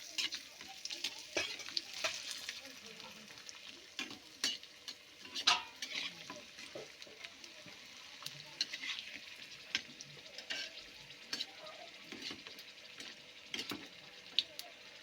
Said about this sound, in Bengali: তেলটা গরম হয়ে এসছে, এবার বড়িটা দিয়ে দিলাম।